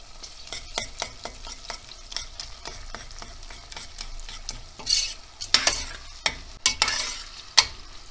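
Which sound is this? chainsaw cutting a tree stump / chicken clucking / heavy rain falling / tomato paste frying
tomato paste frying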